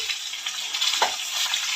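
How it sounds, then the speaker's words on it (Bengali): Flat beans (shim) sizzle steadily in a pan of oil where potatoes have already been fried for a fish and bean curry, a close, continuous crackle with no talk. "এই যে সিমটাকে একটু ভেজে নেব"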